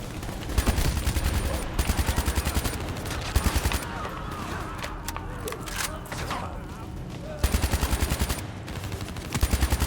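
Rapid automatic gunfire from the Call of Duty Black Ops 3 campaign, loud bursts at the start and near the end framing a quieter middle stretch with game ambience and voices.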